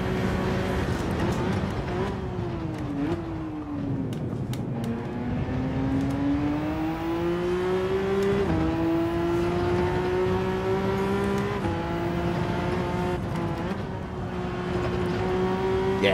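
A race car in Gran Turismo 7 holds a loud, continuous engine note that climbs and dips through several revving surges and gear changes, close and alone with no talk.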